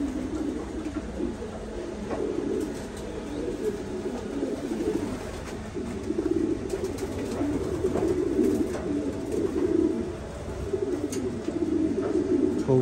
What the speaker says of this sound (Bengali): এগুলো হলো ব্রিডিং এর কবুতর